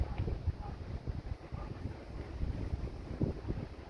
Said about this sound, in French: Il y a le vent, encore une fois.